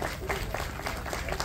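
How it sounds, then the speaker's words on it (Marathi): An audience at a school cultural programme applauds the teachers, a dense, even wash of many hands clapping at once, steady and moderately loud for the whole moment. "आपण असं सगळ्यांनी टाळ्या वाजवा"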